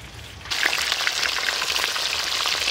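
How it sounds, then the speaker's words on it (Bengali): Fish sizzles steadily in hot oil in a pan, fried until reddish for a Bengali fish curry; the loud, even crackle starts abruptly after a short quiet moment and continues unbroken. "এই মাছ কিন্তু একটু লাল লাল করেই ভাজতে হবে"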